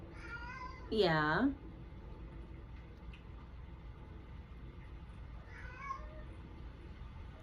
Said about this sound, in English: She's sitting by the door meowing, waiting for me to come get it.